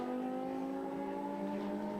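A Ferrari GT3 race car passes on the track during qualifying at the Abu Dhabi 6 Hours, a sustained high engine drone heard from a distance that holds steady for about two seconds, with no voices.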